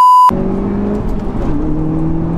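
A brief test tone cuts off, then an Audi S1's engine drones steadily and shifts pitch as it picks up speed on an open road, loud and close.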